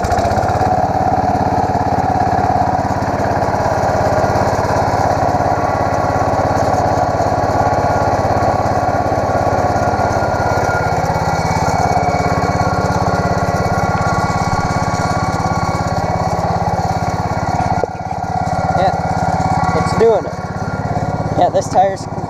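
Racing lawn mower engine with a hydrostatic drive runs steadily at close range, towing another mower by a chain with two flat tires, a constant mid-pitched drone that dips and sputters briefly near the end as a person talks over it.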